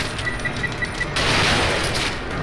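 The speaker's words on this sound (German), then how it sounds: "Explosionsbolzen, baller ich gleich mal zwei hintereinander" Explosive bolts are fired during a boss fight in The Evil Within, with faint beeping followed by a burst of loud, crackling explosive noise that fills the second half.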